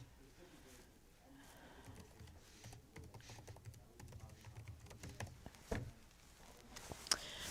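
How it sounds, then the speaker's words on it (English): Fingers type a web address on a computer keyboard in a rapid run of light, close clicks and taps over a faint background, with a few sharper keystrokes near the end. "So I'm just typing it in to make them happy."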